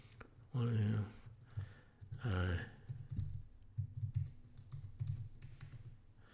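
Soft clicking of typing on a computer keyboard, close but faint, running under a voice with a low hum in the background.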